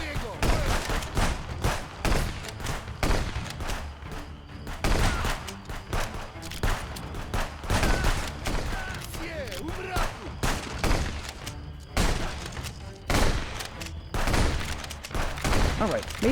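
Rapid SMG bursts and other gunfire from the video game Wizard with a Gun crackle in loud, repeated volleys all the way through, with a voice talking at times between shots.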